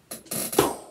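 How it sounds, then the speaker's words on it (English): A squeaky chair creaks in two or three short, close rasping squeaks within a second, with no talk over them. "it's a squeak coming from a chair"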